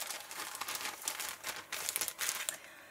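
Craft supplies are pushed into a plastic bag, which crinkles and rustles loudly and steadily up close for the whole stretch, with no voices.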